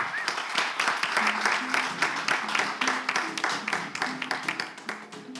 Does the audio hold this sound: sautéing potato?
no